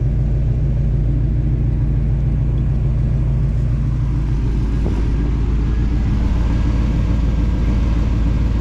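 A 1979 Pontiac Trans Am 10th Anniversary, revived after sitting for 30 years, drives along with its engine rumbling low and steady throughout, a continuous close drone with no voices over it.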